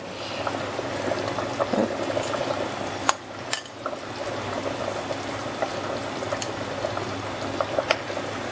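Tamarind water goes into a pot of boiling tom yum chicken soup, a steady bubbling, gurgling liquid wash with occasional soft clinks and splashes, close and even throughout; no talking.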